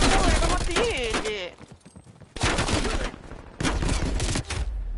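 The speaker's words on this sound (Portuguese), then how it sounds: "eu não tô entendendo de onde tá vindo esse tiro" Video game gunfire in Call of Duty Black Ops Cold War on PlayStation 5, dense bursts of shots in three loud stretches with a brief lull, under excited talk from a player.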